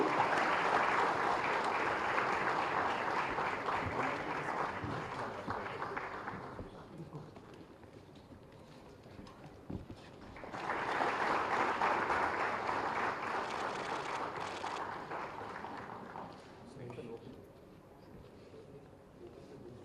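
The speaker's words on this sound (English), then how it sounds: "Can we have a big round of applause once again?" Audience applause at a conference valedictory ceremony in Hyderabad: two long bursts of clapping from a crowd, each fading out, separated by a quieter stretch with murmuring, moderately distant.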